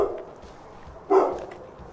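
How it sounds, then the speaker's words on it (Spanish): A dog barks from a neighbouring warehouse near an abandoned building: a muffled bark at the start, then one clearer bark partway through, both distant. "Se oyen ladridos."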